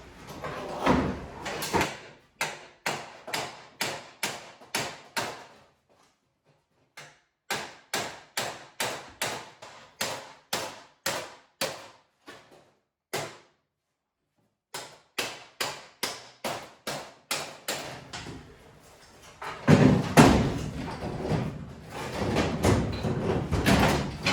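Repeated hammer blows on a metal car body panel in quick rhythmic bursts, pausing between runs, followed by a rougher clattering scrape near the end.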